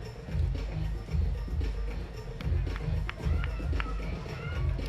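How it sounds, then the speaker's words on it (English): A lively home crowd at a PUL ultimate frisbee game, the Nashville NightShade hosting Atlanta Soul, cheers and roars in steady surging waves, with crowd noise and footfalls filling the whole stretch. "this crowd is really getting fired up, really starting to get into it"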